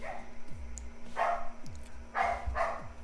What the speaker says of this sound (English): Dog starts barking.